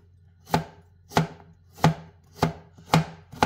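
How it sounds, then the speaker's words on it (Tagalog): A knife chops through vegetables for a keto stir-fry on a cutting board, five crisp, evenly spaced cuts about every half second, close and clear with no talk. "Panipisin lang natin dahil hindi soup yung gagawin natin. Ginisa siya, kaya kailangan maliliit lang yung ating hiwa para madali siyang maluto."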